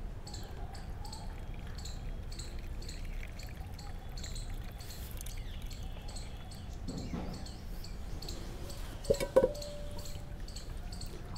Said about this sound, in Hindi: इसको हम इस तरीके से प्रेस कर देते हैं ताकि पूरा इसका अर्क पानी में चल जाए।